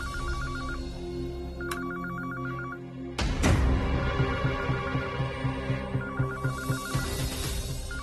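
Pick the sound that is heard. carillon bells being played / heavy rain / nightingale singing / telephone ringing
telephone ringing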